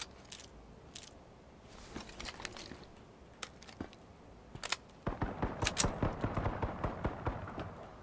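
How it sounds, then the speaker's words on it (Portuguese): Sharp bursts of gunfire in the video game H1Z1 Battle Royale crack out irregularly, sparse at first and then in rapid, denser volleys, with a muffled, game-like quality and no talking. "o tiro tá comendo solto aqui"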